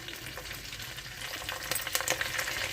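Green chillies and curry leaves frying in hot oil in a clay pot, a dense, close crackling sizzle that grows busier toward the end.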